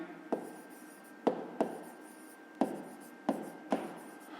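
Handwriting on paper while working a fifth-grade math exercise: six quick, separate pen strokes in an uneven rhythm, close and fairly quiet over a soft room hush, with no talking.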